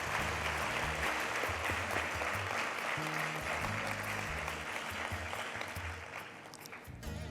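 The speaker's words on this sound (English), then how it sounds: "Let's give Colonel Narayanan and the Sai Hira team a special round of applause" A convention audience gives a team a sustained round of applause, a broad, even wash of many hands clapping throughout, with low murmuring and faint talk beneath.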